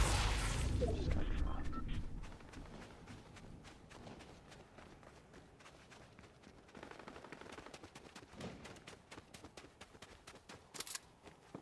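Video game gunfire in Fortnite, with dense bursts of distant shots crackling steadily through the whole stretch and louder rattling at the start, with no talk over it.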